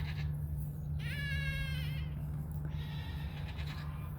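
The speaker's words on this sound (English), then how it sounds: "goats and these goats are having a conversation." Goats bleat outdoors in a couple of wavering, drawn-out calls with a short pause between them, fairly close over a low steady background hum.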